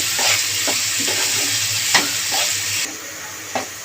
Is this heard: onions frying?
yes